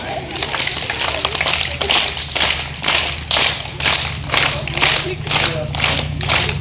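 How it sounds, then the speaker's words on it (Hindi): A group of children clap in time during a yoga session, about ten evenly spaced claps roughly every 0.7 seconds, close and fairly loud over a low steady hum. "ताली बजाओ।"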